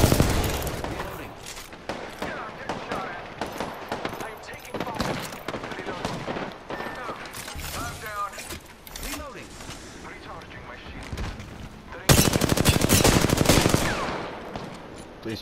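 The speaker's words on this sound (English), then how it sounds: "The enemies are shooting at me." Rapid enemy gunfire in the video game Apex Legends, dense bursts of automatic fire and shots crackling nearly nonstop, loud and close, with a harsher, heavier barrage near the end; voices talk over parts of it.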